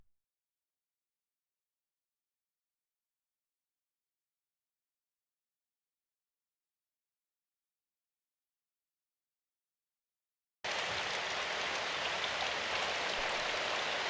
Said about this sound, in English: waited for Asano in the rain